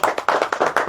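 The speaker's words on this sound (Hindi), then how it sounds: "एक तालियां बजा दो।" Hands clap in a brisk, uneven burst of roughly eight close, loud claps within a second, from a small group of coworkers marking the company's first registration anniversary with a cake cutting.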